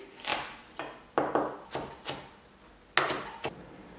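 Crushed shallots and garlic minced on a wooden board, a run of quick knife chops in short irregular bursts, some doubled blows, close and crisp with no voices.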